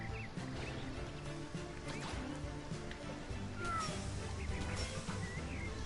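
A cat meows in the LittleBigPlanet game, short tonal mews rising over a soft musical game backdrop, moderately close with a louder burst at the very end.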